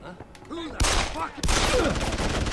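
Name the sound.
enemy gunfire in video game Deus Ex Human Revolution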